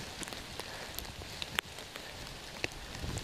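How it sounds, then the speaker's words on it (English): Rain patters on a forest trail in a steady, broadband hiss, with scattered sharper drops ticking close by throughout. "I don't know why it's raining out here."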